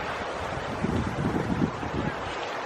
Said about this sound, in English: And it is cold here. We got a headwind.